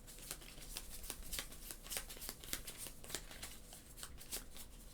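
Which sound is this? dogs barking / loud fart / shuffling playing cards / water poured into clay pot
shuffling playing cards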